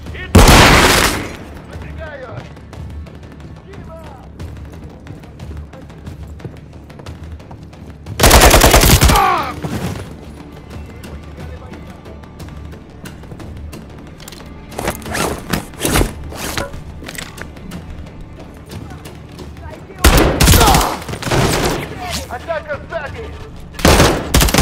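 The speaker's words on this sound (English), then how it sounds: "There's enemy fire!" Enemy gunfire in the shooter game Call of Duty Modern Warfare 3, loud bursts of automatic fire and single shots coming in clusters over a rumbling background, with voices talking at times.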